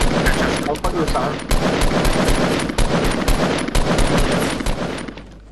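Fortnite duos match with rapid automatic gunfire in loud, dense bursts that crack on and off for several seconds, leaving barely any gap between volleys.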